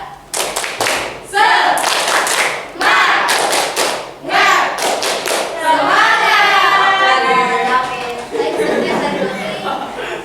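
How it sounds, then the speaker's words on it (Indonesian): A class of students doing rhythmic spirit clapping led by a teacher, with bursts of clapping in patterned groups mixed with shouted voices and chatter, loud and close. "Yuk, kita tepuk semangat dulu."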